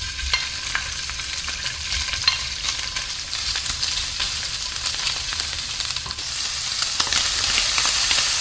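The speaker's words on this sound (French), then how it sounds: "Je vais commencer par faire revenir les morceaux de saucisses pendant 2-3 minutes." Sausage pieces fry over high heat in olive oil in a sauté pan, a steady dense sizzle with scattered pops and crackles that swells slightly louder toward the end, no voices.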